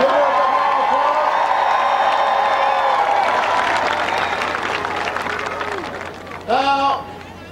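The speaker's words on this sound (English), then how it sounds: "Give her a big round of applause." A rally crowd applauds and cheers for congressional candidate Sharon Newhart, a broad wash of clapping with whoops and tonal voices over it, fading gradually before a brief loud burst near the end.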